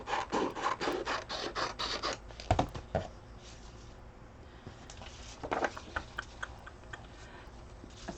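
Paper for a large mixed media poster is trimmed with quick rasping cuts and rustling, close and fairly quiet, in bursts separated by short pauses, with no talking.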